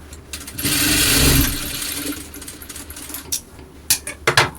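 A sewing machine stitching cloth runs in one steady whirring stretch of about two seconds, close and fairly loud, then falls away into scattered clicks and knocks as the fabric is handled.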